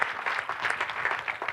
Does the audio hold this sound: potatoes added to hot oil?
no